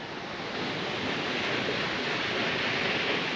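Hunua Falls waterfall roars as a steady, broadband rush of falling water heard from a lookout above, constant and fairly loud with no talking.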